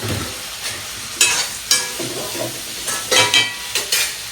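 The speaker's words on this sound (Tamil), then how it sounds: "நம்ம குழம்பு மசாலாவுக்காக கருவேப்பிலை சேர்த்துருவோம் இது வதங்கட்டும்" Curry leaves frying in a pan for a fish curry masala, with a low hiss beneath a run of sharp, loud spatula scrapes and knocks that come in irregular bursts, no speech.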